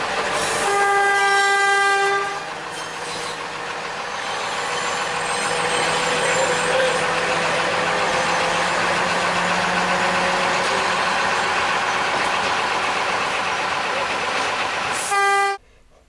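The Gulflander railmotor on the Normanton to Croydon line sounds a loud, sustained horn blast at a level crossing, followed by a steady engine drone and rail rumble. A second horn blast comes near the end before the sound cuts off.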